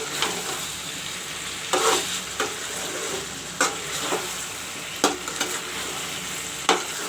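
Chicken frying with masala spices gives a steady sizzle in a pan, broken by periodic stirring scrapes and clatters roughly every second or two.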